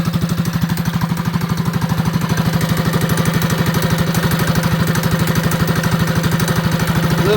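A Coleman B200rsv minibike's small engine runs with its governor removed, a loud, close, rapid and even putter that holds steady and rises slightly in pace, with no talk over it.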